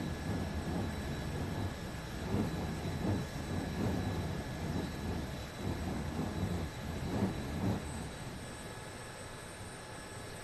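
A light aircraft's engine runs at a steady drone while the plane sits ready for taxi and takeoff at an aerodrome, heard from inside the cabin with faint rhythmic pulsing and no talk.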